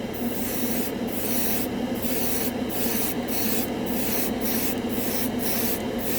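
An airbrush lays a final coat of acrylic paint onto a scale model with a continuous close hiss, broken by brief regular pauses as the trigger is released between passes.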